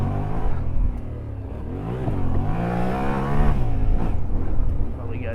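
A Yamaha Tenere World Raid adventure motorcycle rides an off-road hill track with firebreaks. The engine drones steadily and close, rising and falling in pitch as the rider works the throttle, with wind rush over it throughout.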